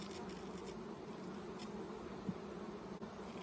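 Honeybees hum around an open hive in a bee yard in humid Alabama weather, a soft, steady, continuous drone with no talking over it.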